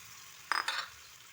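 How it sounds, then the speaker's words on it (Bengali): Pointed gourd and potato pieces dropped into a pan of spices and sizzling in hot oil, one sharp loud burst of frying that fades into a low hiss, close up with no voices. "মশলা কষানো হয়ে গেছে, এখন এই পটল আলুগুলো দিয়ে দিচ্ছি"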